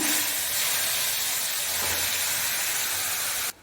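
Ground masala sizzles in hot oil with mustard seeds while a tomato rasam is cooked, giving a loud, steady, close hiss that cuts off abruptly near the end.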